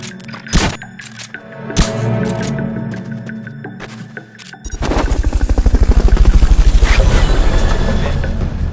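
Helicopter carrying a Fulton recovery in Metal Gear Solid: sharp cracks and mechanical clicks at first, then a loud, close rotor thump with a rapid steady pulse building and holding.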